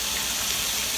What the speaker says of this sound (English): Make sure your grease is hot enough. And we're going to let these cook.